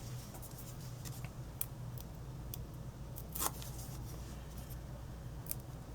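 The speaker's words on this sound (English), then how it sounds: "I put foam tape on the back. So let me just peel that off." Foam tape backing peeled off a cardstock castle cutout for a Disney scrapbook page, soft close crackling and a few small tearing pulls, faint and alone in a quiet room.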